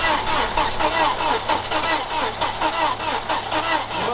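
A Mercedes W124 runs on LPG gas alone, its engine catching and settling into a steady, close mid-pitched running note with a faint rhythmic pulse, with voices talking over it.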